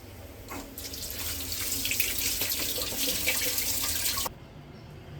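Cold tap water runs steadily into a kitchen sink while bilimbi fruit that was boiled for a preserve is rinsed, a continuous close splashing hiss that stops abruptly near the end.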